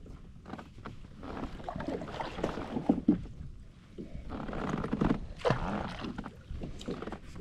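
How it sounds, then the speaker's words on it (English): A kayak is paddled backwards on open water while fishing bank lines, making soft, irregular splashing and dripping strokes close by, with light wind noise and no speech. "I'm going to try to just paddle backwards until this line tightens up."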